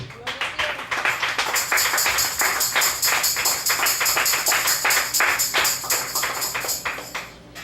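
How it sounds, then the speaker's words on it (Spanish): Church congregation applauding during a Spanish-language sermon, a dense run of steady hand claps sustained for several seconds before tapering off at the end. "Denle un aplauso al Rey."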